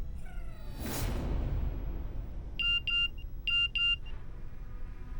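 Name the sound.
mobile phone ringing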